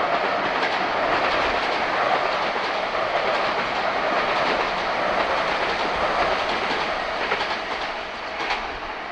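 A Tokyu Toyoko Line train passes near the line's tunnel between Higashi-Hakuraku and Yokohama, a loud, continuous rolling rumble with faint clickety-clack throughout, easing slightly at the end.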